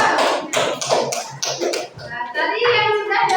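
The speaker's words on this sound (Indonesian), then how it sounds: "tepuk tangan untuk kelompok 1" Classroom of schoolchildren clapping for a student group, bursts of quick, close hand claps in uneven rhythm mixed with children's chatter and a voice talking over them.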